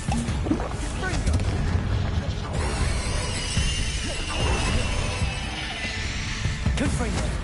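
Confringo blasting spells exploding in the Hogwarts Legacy video game, a string of booming blasts and crashing impacts with shattering debris, loud and close, mixed with speech.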